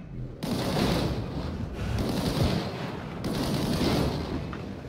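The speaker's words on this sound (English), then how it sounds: "Shoot that barrel." Gunfire and a heavy blast from shooting a barrel in the video game Disintegration, a loud dense burst that carries on as a rumbling crackle, with a second surge partway through.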